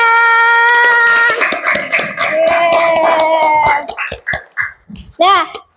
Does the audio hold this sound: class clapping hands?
yes